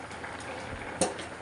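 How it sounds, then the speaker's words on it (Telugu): Dal cooking with drumstick pieces in a pot, bubbling steadily at close range with soft continuous simmer and a brief louder splash or clink near the end; no talking. "ములక్కాయ వేసేసాను ఉడుకుతుందని పప్పుతో పాటు."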